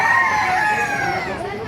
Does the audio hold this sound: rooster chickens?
yes